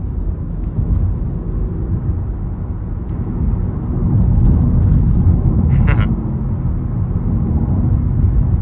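A Škoda Fabia 1.0 TSI 81 kW hatchback is driven, giving a steady low engine and road drone that swells slightly partway through, with a brief higher squeak near the end.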